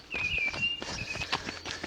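Quick running footsteps on a Yorkshire trail, a steady patter of light crunching strides close by, with birdsong and faint breathing in the background.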